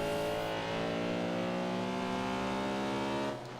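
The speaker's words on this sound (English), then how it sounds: "I do like the sound of this car" A Cadillac Escalade engine in the racing game Forza Horizon 2, a loud sustained engine drone with a steady rising pitch that cuts off near the end.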